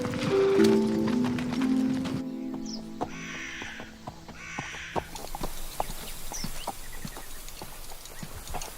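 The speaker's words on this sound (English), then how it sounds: "He's a good horse, though." A horse's hooves clip-clop at an easy, steady gait on a ranch, the clatter set over a musical passage that gives way to outdoor ambience with a crow cawing now and then.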